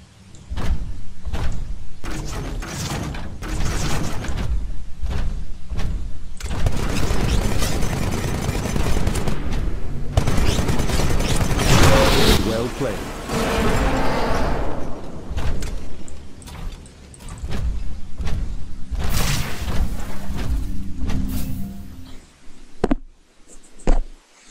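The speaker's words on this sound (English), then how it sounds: "This weapon absorbs incoming ballistics for a limited time, then refires them" Titanfall Titan's Vortex Shield hurling absorbed ballistic rounds back, a dense, loud roar of rapid gunfire-like blasts that runs for about fifteen seconds before breaking into scattered bangs and fading.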